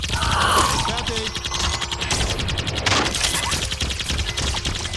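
Rapid weapon fire in the Ghostbusters video game, a dense continuous burst of crackling shots and mechanical noise running throughout, loud and busy with game effects layered on top.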